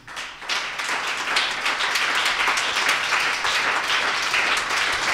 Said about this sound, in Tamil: எனக்கு ஒரு கைத்தட்டு.